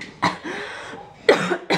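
Two harsh, close coughs, one near the start and a louder one after a brief pause, with no talking.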